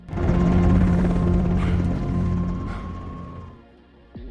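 A helicopter in an action scene from the series Reacher thunders with a loud, steady rotor throb up close, then fades near the end before a sharp thud.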